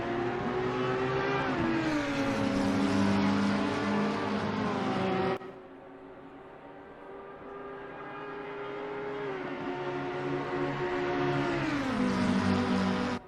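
A pink McLaren and a damaged Audi race in a racing game, their engines loud and close, with pitch sweeping down through gear changes, a sudden cut to quieter engine drone, then revs building again.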